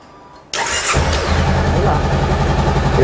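A motorcycle engine cranks and catches after a brief quiet moment, then settles straight into a loud, steady idle with a throbbing low rumble, heard close up.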